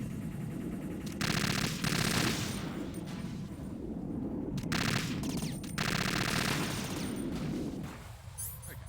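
Bursts of automatic AK rifle fire in Metal Gear Solid 2, several loud rapid volleys separated by short pauses, with a low game background between them.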